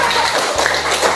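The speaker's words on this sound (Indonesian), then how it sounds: "Beri tepuk tangan dulu buat kelompoknya ya." A primary classroom applauds a group after a magnet experiment. A steady, dense wash of many hands clapping fills the room, with little talking.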